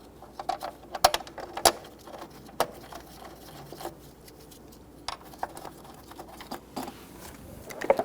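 Bolts being snugged down on a transmission mount of a 2017-2020 Hyundai Elantra 2.0L, with scattered metallic ratchet clicks and taps at an irregular pace over low background noise.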